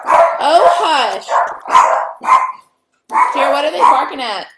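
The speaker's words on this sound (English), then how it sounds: "what are they barking at?" Dogs bark loudly and close by in a rapid series of yelping barks, with a short pause before another burst.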